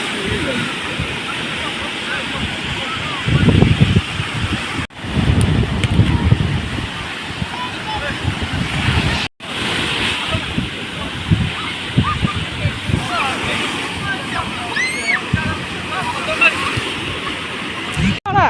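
Sea waves washing onto a beach in Algeria, a steady rushing, sloshing surf with gusty wind buffeting the microphone throughout, loud and close, with two brief dropouts.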